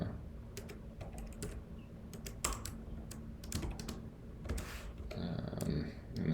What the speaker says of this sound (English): I'll type this code up